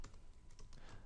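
Computer keyboard typing while entering text in GIMP, a quick run of close, light key clicks with no talking.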